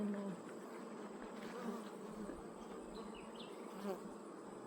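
Honey bees buzz steadily in an open hive with frames being moved between brood box and super, a dense close hum throughout with no talking.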